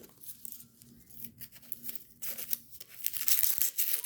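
Someone peels a vegetable by hand while making a quick dinner, a run of soft tearing and crinkling strips that is faint at first and grows louder and crisper toward the end, with no talking.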